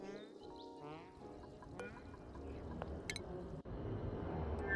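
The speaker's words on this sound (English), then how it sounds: "So I can dump the polluted water out here." Polluted water being dumped out in the video game Oxygen Not Included, heard as faint liquid pouring and dripping sounds mixed with game tones and chimes, all quiet and steady.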